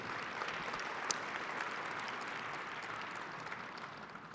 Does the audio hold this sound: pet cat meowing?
no